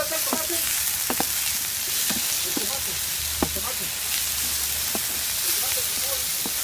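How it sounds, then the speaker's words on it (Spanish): Ingredients frying for a Basque-style seafood paella, a steady close sizzle and hiss with scattered crackles and pops throughout. "Y aquí empezamos a fritar."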